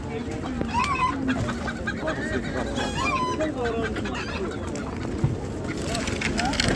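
Chickens clucking and a rooster crowing amid the bustle of the Ganja bird market, several birds close by, with people talking in the background.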